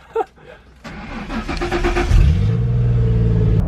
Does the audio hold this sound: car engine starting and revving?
yes